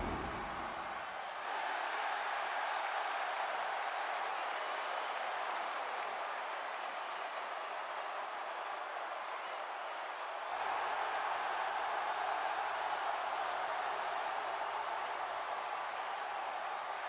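Steady roar of a large arena crowd cheering for the Ultimate Warrior's entrance in the wrestling video game WWE 2K16, a continuous dense wash that swells slightly louder partway through, with no voices standing out.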